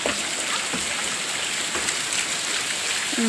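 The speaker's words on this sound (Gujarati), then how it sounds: "વરસાદ વરસાદ અમારે" Continuous steady rain pattering on a surface, even and fairly loud, with no voices.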